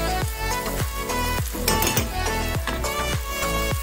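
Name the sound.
cooked mixture sizzling as it is poured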